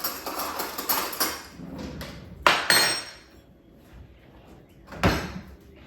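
A kitchen drawer being opened to fetch a spoon while cooking a Caribbean dinner: a few sharp clattering knocks and a rattle, the loudest two close together near the middle and another toward the end, with quieter rustling between.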